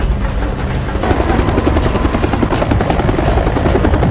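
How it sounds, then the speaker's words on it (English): A helicopter in a movie rescue evacuation, with a loud, close rotor chop that thumps steadily and rhythmically under a constant engine roar. "When Susan told Malik to get into the helicopter"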